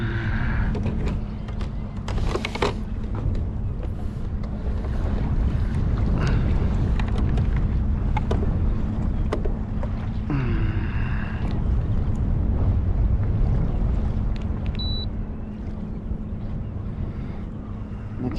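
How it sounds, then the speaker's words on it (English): Breezy wind buffeting a microphone on a fishing boat, a steady loud rumbling roar with low hum throughout, plus occasional faint clanks and knocks. "And it's breezy, and it's going to get breezier."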